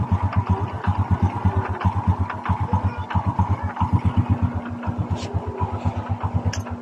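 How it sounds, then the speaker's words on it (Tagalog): A Honda XRM 125 carburetor motorcycle with its muffler opened runs steadily, its engine putting out a loud, close, rapid rhythmic put-put pulse that carries on without a break. "para marinig natin talaga ang tunog ng kanyang makina kung mayroon itong vibration o cleansing"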